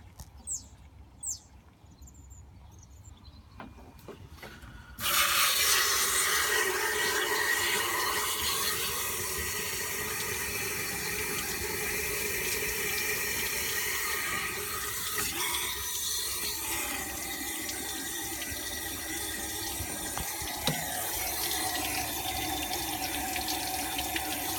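Fresh water gushes steadily through the cylinder head of a Ford Fiesta XR2i during an engine coolant flush, starting abruptly after a few quiet seconds with faint birdsong, then a loud continuous splashing rush close by.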